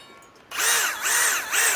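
A RIDGID high-torque hammer drill rated at 1,250 inch-pounds bores with a 1.25-inch speed bore bit, starting abruptly into a loud, sustained high whine with rhythmic dips in pitch as the bit loads and frees in the material.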